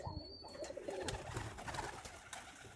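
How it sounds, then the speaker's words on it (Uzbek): Pigeons cooing in a loft, soft low murmuring calls repeating over a steady ambient background, with no talking. "juda zo'r qushlar ekan"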